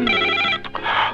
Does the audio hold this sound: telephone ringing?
yes